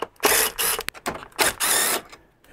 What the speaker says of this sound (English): So we're gonna take these six torque screws off.